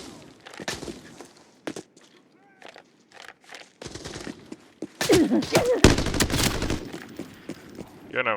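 Gunfire in the game Arena Breakout: Infinite at the Forbidden Airport map, with scattered single shots early and then a dense, loud burst of rapid automatic fire near the end.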